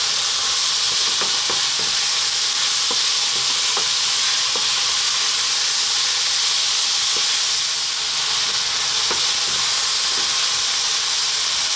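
Onion and beef frying over maximum heat in a pan for beef potato curry, giving a loud, steady, dense sizzle and hiss throughout with scattered light stirring clicks, close up and without any talking.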